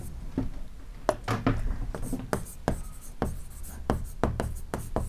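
A teacher writes on a board during a biology class, producing a close series of short, scratchy strokes in an uneven rhythm, with brief pauses between bursts and faint voice in the background.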